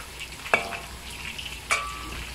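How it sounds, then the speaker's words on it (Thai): Pork pieces deep-frying over high heat in hot oil, a steady sizzle with two sharp clacks as they are stirred and spread, close and fairly quiet. "ทอดอยู่เนี่ยแล้วก็กับเกลี่ยคนๆเขาด้วยนะคะเขาจะได้สุกเหลืองทั่วกัน"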